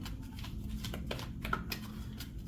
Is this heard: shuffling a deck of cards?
yes